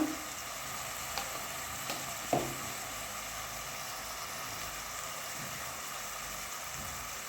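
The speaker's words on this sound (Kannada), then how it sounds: "ಸ್ವಲ್ಪ ಗರಂ ಮಸಾಲ ಹಾಕ್ಬಿಟ್ಟು ನೀಟಾಗಿ ಫ್ರೈ ಮಾಡ್ಕೋಬೇಕು." Okra (lady finger) frying in a pan with chili powder and turmeric gives a steady, even sizzle, close and moderately loud, with a few light clicks of the spoon early on and no voices.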